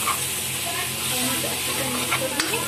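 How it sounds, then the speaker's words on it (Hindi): Chhole masala is stirred in a hot pan, giving a dense, steady sizzle with a faint scrape of the spoon near the end, close and continuous. "अब इसे अच्छे से मिक्स कर लेंगे"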